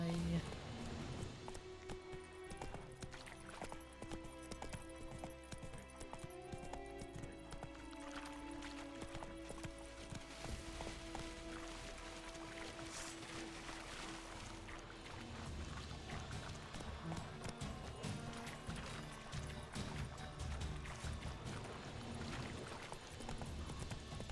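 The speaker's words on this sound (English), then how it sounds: "And jump with the horse, kind of small jumps." Horse hooves clip-clop steadily at a trot in the video game The Witcher 3, with small jumps, under background music and voices.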